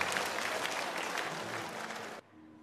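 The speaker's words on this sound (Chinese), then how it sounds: "掌声有请我们陶瓷组的专家邱小军老师为我们做精彩点评" Studio audience at a Chinese antiques appraisal show applauding loudly and continuously for about two seconds, then cutting off abruptly into near quiet.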